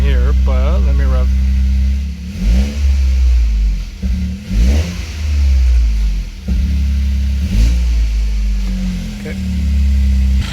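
A Toyota GR Corolla with an aftermarket intake, already warm, revs several times from idle: loud, close engine blips that rise and fall in quick bursts over a steady rumbling idle.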